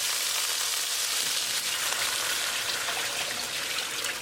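Water pours into a hot pan of chicken biryani with sweet peas, a loud steady hiss and sizzle with a gushing trickle, close and continuous with no talk.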